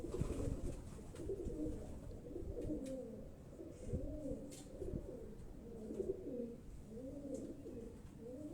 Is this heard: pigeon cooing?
yes